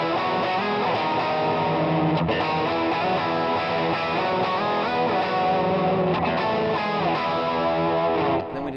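At full tempo, an electric guitar phrase from a song runs without a break, with effects and rhythmic picking, its distorted notes moving briskly and evenly throughout.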